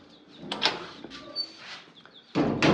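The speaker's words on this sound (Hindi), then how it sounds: "दरवाज़ा बंद करो।" A door in an indoor lovebird house swings shut with a loud broadband thud near the end, after softer shuffling and a few faint bird chirps.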